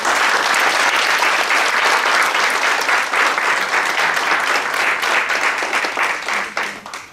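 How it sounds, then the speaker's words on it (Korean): Dense, steady applause from a seated audience welcoming an elderly guest at a 2008 book-launch ceremony, loud and continuous before thinning out at the end. "여러분 박수로 환영합니다"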